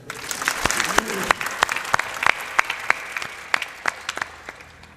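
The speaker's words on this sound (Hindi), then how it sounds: "ताली बजा दो।" Audience at a satsang clapping, a brisk scattered round of applause with sharp individual claps standing out, close and fairly loud.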